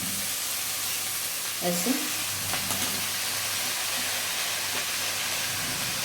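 Amaranth greens go into a pan of browned garlic and onion, giving a loud, steady, close sizzle and hiss with a brief clatter partway through and a short spoken word.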